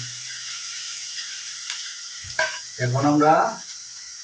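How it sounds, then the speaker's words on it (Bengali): Onion frying in oil gives off a steady, even sizzle with a couple of brief stirring clinks, and a voice speaks briefly near the end. "একটু পেঁয়াজটাকে হালকা করে ভেজে নিব"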